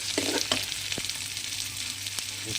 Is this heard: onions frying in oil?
yes